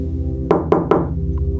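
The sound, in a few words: a single soft knock on a door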